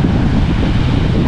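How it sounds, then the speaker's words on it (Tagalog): Strong wind roars steadily at the sea, a loud, unbroken rush that buffets the microphone with no pauses. "Sobrang lakas ng hangin."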